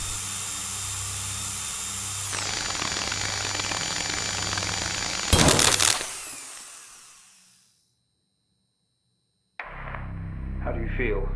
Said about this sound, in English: When ready, trigger sync master as normal to begin drill insertion.